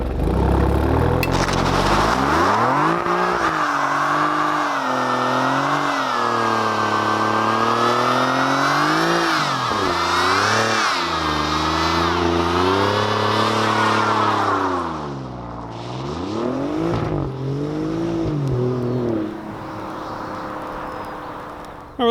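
An Alfa Romeo Giulia Quadrifoglio roars through a long burnout with wheelspin, its engine revving and wavering loudly for around fifteen seconds before dropping off, then briefly climbing again, with no talking.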